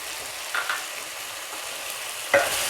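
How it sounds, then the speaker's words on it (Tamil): Tomato masala with turmeric and coriander powder sizzles quietly in a pan for drumstick masala, with a couple of distinct spatula scrapes against the metal. "நல்லா மிக்ஸ் பண்ணிக்கோங்க."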